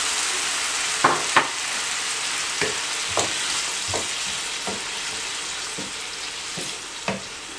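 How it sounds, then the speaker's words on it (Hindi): Spinach stirred into masoor lentil dal cooking in a pot, with a steady sizzle and bubbling broken by a series of distinct spoon knocks and scrapes at irregular intervals. "इसको अच्छी तरह से मिक्स करें और सिर्फ 1 मिनट के लिए पकाना है पालक को।"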